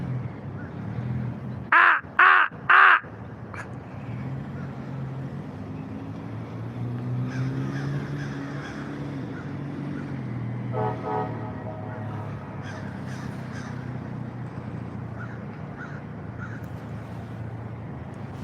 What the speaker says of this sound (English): there's a bunch of my crow buddies up here this morning